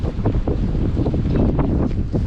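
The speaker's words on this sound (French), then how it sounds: "C'est incroyable, hein, la force du vent, c'est phénoménal." Strong, steady gale-force wind at a marina roars and buffets the microphone, with gusty rushing noise throughout and no talking.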